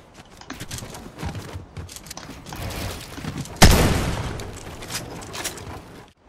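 Pump shotgun blasts and rapid building clatter in the Fortnite video game, a dense string of clicks and thuds ending in one sharp loud shot near the middle that decays into more busy mechanical rattling.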